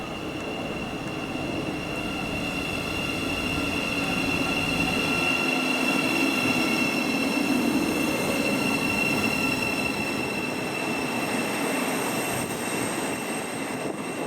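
A train at a platform at Welwyn Garden City station on the East Coast Main Line, a steady loud rumble of wheels and machinery with high squealing tones running throughout, no voices over it.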